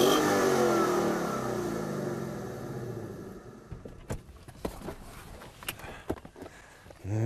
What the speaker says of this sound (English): Hit the start button and the powerful V8 springs to life.